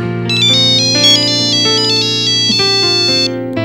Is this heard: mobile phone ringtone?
yes